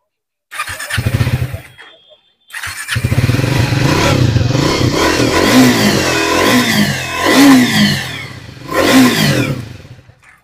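A motorcycle at the Maa Kali Motors bike showroom near Kolkata is started and then revved hard in several loud, close bursts, the pitch rising and falling between pauses.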